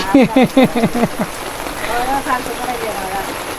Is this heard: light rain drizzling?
yes